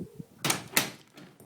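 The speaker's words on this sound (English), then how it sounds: "So I'm going to close the front door. I've done that." A house's front door is pulled shut, giving two quick, sharp knocks close by, separated by a short pause, followed by faint softer clicks in an otherwise quiet room.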